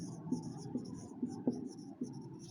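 Chalk or marker strokes on a classroom board during a maths lesson, five distinct scratchy taps spaced about half a second apart over a low background hum, fairly close and moderately quiet.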